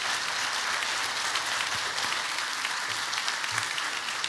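An audience applauds to welcome a speaker to the stage at a museum event about the reinstallation of the Mellon Collection, steady dense clapping throughout, no voices.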